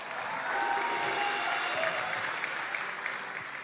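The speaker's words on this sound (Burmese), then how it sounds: "လက်ခုပ်တပြီးဂျိုဆိုပေးပါအောင်။" A church congregation at a revival night sermon breaks into a short, moderately loud round of clapping, many hands at once in a steady patter that swells and then holds.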